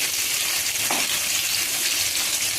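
Potato and aubergine pieces, seasoned with salt and turmeric, fry in hot oil in a pan with a loud, continuous, close sizzle and a brief stir partway through.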